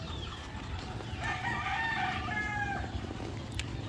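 Chickens on a poultry farm raising chicks give a faint rooster-like crow and soft clucking over a steady low background hum, with no talking.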